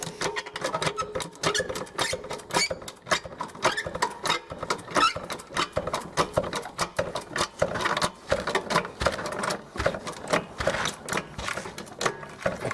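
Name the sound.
car jack lifting Nissan Presage off the ground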